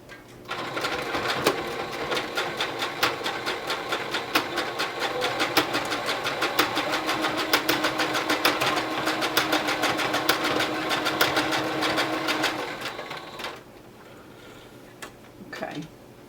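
A sewing machine with a sticking stitch runs continuously up close while pleating a fabric mask, a fast, even mechanical chatter for about thirteen seconds before stopping, followed by faint handling sounds.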